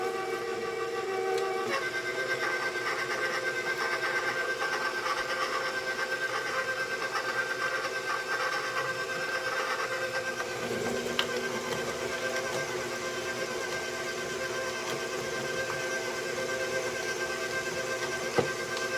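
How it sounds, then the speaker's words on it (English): Electric mixer whirring steadily through wet ingredients for almond fruit bran cookies, a constant near drone holding for the whole stretch with a couple of brief clicks near the end. "I'm going to turn my mixer on and get it mixed."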